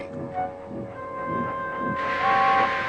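Wooden toy steam engine Gordon lets out a steady hiss that swells louder toward the end, with faint tonal whistle-like lines running underneath and no talking.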